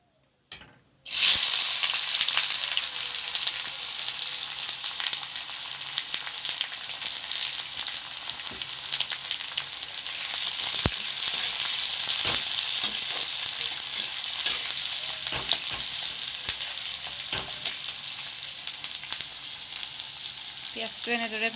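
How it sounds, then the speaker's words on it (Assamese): Chopped onions fry in plenty of oil in a wok with split green chillies, a loud, close, continuous sizzle that starts abruptly after a second, with occasional stirring scrapes and no voices. "এতিয়া কাটি লোৱা পিয়াজখিনি এতে ভাজিম পিয়াজখিনি কেঁচা গোন্ধ যোৱালৈকে ভাজি লম আমি"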